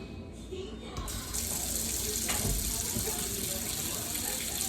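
Warm water running from a tap into a kitchen sink, a steady close splashing rush that swells after a brief faint start and continues without talk.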